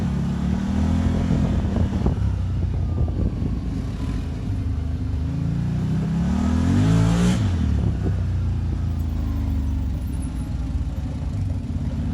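A Can-Am Maverick Sport DPS 1000R side-by-side engine revs and pulls through repeated surges of acceleration, a throaty, continuous rumble rising and falling as it drives nearby off-road.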